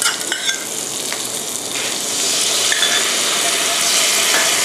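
Vegetable stems stir-fried first for salted-fish spaghetti, a loud, steady sizzle from the pan with occasional scraping and clicking of the spatula, growing slightly fuller partway through.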